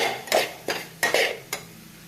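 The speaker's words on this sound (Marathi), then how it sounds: "रव्याला पण छान असं लाल रंग येईपर्यंत छान भाजून घेऊयात खोबऱ्याचा खीस आणि रवा छान असा भाजून घ्यायचा" Semolina and grated coconut roasting in a pan, heard as four sharp scraping strokes of a spoon against the metal, about half a second apart, close and alone.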